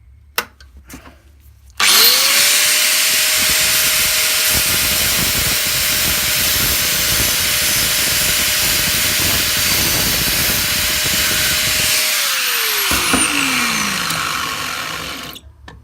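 A power tool cuts through a copper sheet being shaped for an enamelled shoe, running as one loud, continuous steady whine for about ten seconds before winding down with a falling pitch.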